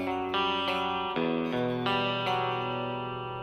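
Electric guitar played clean through the back pickup, a series of sustained strummed chords ringing out one after another, close and full, alone with no voices.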